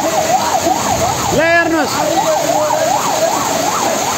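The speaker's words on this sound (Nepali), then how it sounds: "अब एम्बुलेन्स आएको छ, एम्बुलेन्स पनि यहाँ फस्ने क्रममा छ" An ambulance siren wails in a steady rising-and-falling pattern on a flooded street in Lamachaur, Pokhara, after heavy rain. A vehicle horn blares briefly midway, and someone speaks over the sound.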